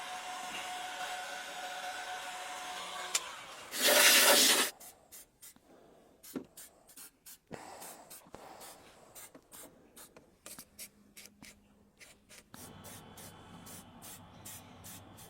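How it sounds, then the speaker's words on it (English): Liqui Moly cable grease sprays from an aerosol can inside the body of a cheap scrapyard W12 Bentley under restoration: one loud, steady hiss of about a second, surrounded by sparse knocks and handling sounds in a quiet workshop. "we're going to use cable grease from Liqui Moly, spritz that all over inside"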